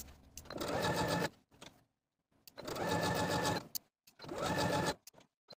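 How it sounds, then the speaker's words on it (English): A sewing machine stitches along a dress hem close to serged edges, running in three loud, close bursts of steady whirring separated by short pauses. "Now I'll take it to my sewing machine and sew close to my serging stitches all the way around."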